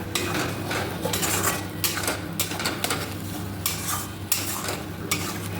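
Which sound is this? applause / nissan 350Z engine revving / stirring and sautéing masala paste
stirring and sautéing masala paste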